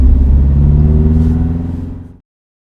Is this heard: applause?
no